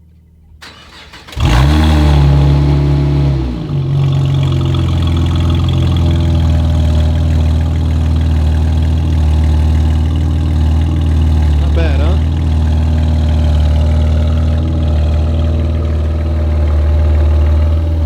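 A 2013 Camaro ZL1 with a supercharged engine starts with a loud crank, then settles into a steady, deep, rumbling idle close by that continues for the rest of the clip.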